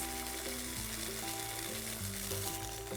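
Ingredients for a potato roll filling sizzle steadily as they are sautéed in a pan, a constant close frying hiss with faint background hum and no talking.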